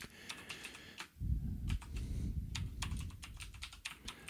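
Keys clatter on a computer keyboard in quick, uneven bursts of typing, close up, with a short low thump partway through and no talking.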